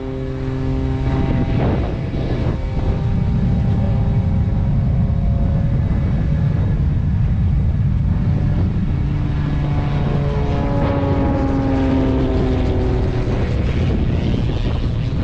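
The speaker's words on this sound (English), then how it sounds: "Looks like we may have a little race between a plane and a jet truck." A stunt propeller plane drones loudly nearby with shifting engine pitch, joined by the roar of a racing jet truck at an airshow, continuous with no talking.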